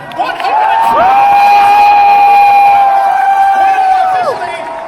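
Crowd at a charity auction cheering and whooping loudly, with a high sustained shout rising over the noise throughout, near and continuous.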